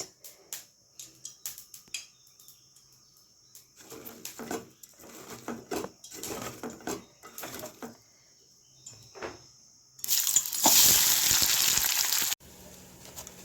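Onions frying in oil for biryani beresta sizzle in a pan, a soft crackling patter with a loud burst of hissing near the end, set against quieter kitchen clatter.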